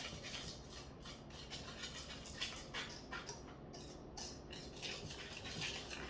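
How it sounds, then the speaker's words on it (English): Flour, sugar, salt, baking powder and baking soda are stirred together in a bowl for a scratch-made cake, giving soft, repeated scraping and light clinking of a utensil, fairly quiet and close. "go ahead and mix all the dry ingredients together. Mix well."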